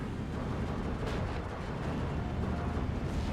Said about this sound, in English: they are concentrating their artillery now